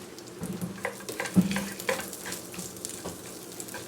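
Bacon crumbles rewarming in reserved bacon drippings in a pan give off a steady low sizzle, with light stirring scrapes and a few crackles rising above it.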